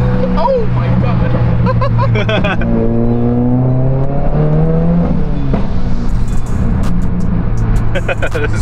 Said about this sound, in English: a lot more burble, a little burble, you hear it? Yeah, it's like burble, burble, burble. I'm gonna downshift for you guys.